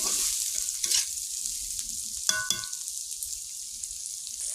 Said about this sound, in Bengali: পেঁয়াজটাকে বেশ খানিক্ষণ একটু কষাবো